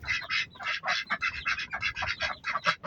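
A flock of ducks quacking close by in rapid, overlapping bursts, loud and continuous with no pauses and no talking.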